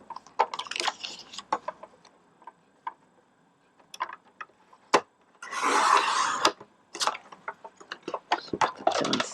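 A 1.5 inch piece of card is cut at a craft table, with scattered close clicks and taps, then a steady rasping slice midway, followed by more sparse ticks, no voices.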